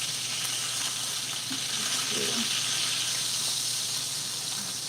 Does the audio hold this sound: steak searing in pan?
yes